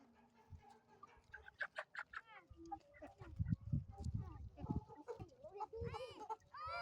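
Free-range hens cluck and chatter close by while foraging outdoors, in a busy, irregular stream, with people's voices faintly mixed in.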